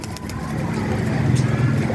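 Pigeons in a loft coo in low, soft rolling calls beneath general background noise, close and continuous through a short stretch.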